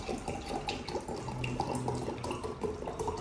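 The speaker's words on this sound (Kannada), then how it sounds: "ಎರಡಕ್ಕೂ ನೀರು ಹಾಕ್ತೀನಿ" Water is poured from a tap-like stream into two glasses, a steady close splashing and trickling that fills the short clip, with no talking.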